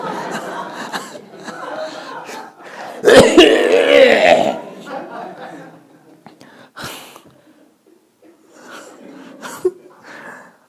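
Congested coughing comes in a few harsh, wet bursts, the loudest near the start, with quieter throat sounds and mumbled speech between them.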